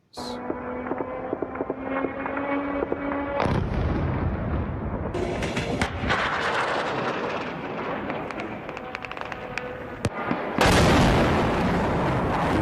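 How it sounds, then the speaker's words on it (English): Loud, repeated explosive blasts and booming impacts from drone strikes on Kyiv, Ukraine, echo over a constant noisy rumble, with sharp cracks scattered throughout. "You hear the buzzing, you hear the explosions."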